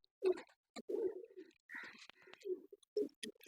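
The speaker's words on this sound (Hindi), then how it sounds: "बहुत प्यारा कबूतर है ये, जबरदस्त कबूतर है ये।" A pigeon coos in soft, throaty bursts, several short calls close by in a quiet setting.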